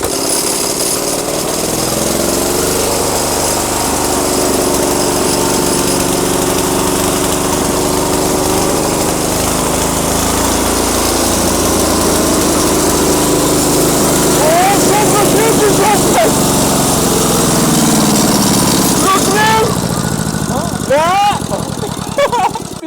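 A walk-behind tractor engine under repair runs loudly and roughly with a steady chugging rumble close by, while people talk over it.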